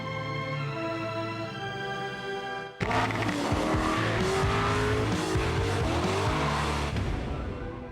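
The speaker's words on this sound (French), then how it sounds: "V8, 450 chevaux, voici l'Alfa 8C Competizione." An Alfa Romeo 8C Competizione with a 450-horsepower V8 drives hard, loud and close, with engine roar and tire noise after an abrupt cut about three seconds in, preceded by a steady tonal hum.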